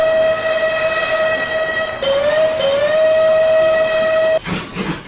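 Steam locomotive whistle from the Trainz railway simulator game: one long, loud, sustained blast that dips slightly in pitch partway through, then cuts off into a short burst of hissing steam.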